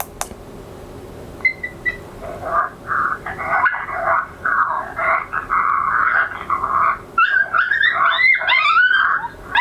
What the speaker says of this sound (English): We're going to try Pup Fight.